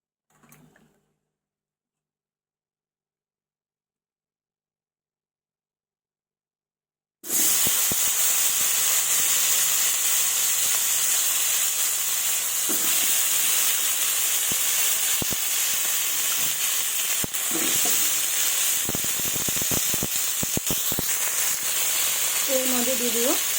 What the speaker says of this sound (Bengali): এবার ওই তেলে আলু আর পটলগুলো ভেজে নেব।